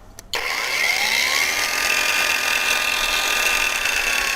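A cordless WOSAI angle grinder set to its minimum speed switches on after a brief silence, spinning up to a steady, loud, high whine that holds without a break.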